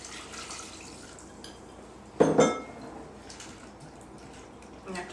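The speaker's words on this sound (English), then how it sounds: "You have to be careful stirring it so it doesn't get everywhere." Gluten-free pancake batter with added water is stirred in a bowl, giving soft wet sloshing with one louder clink of utensil against the dish near the middle, close and otherwise quiet.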